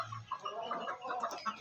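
Aseel rooster and hens in a backyard pen cluck in a busy, overlapping series of short calls, close by and moderately loud.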